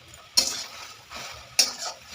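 Chopped kharkol greens, lightly salted, are stirred in a hot pan for a Bengali kharkol bata, two scraping strokes of a utensil over a soft, steady sizzle, close and with no talking.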